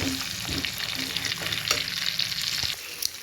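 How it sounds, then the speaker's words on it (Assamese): Olive pickle mixture with turmeric is stirred in a hot pan, with a continuous sizzle of frying oil and scattered scraping strokes of the spoon close by. "ভালদৰে লৰাই দিব।"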